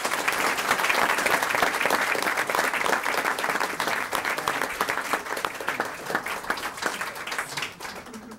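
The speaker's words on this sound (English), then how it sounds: "let's give them all a great round of applause" Applause from parents, community members and school board members honoring senior students at a school district event, a dense, steady clapping that fills the room and slowly thins toward the end.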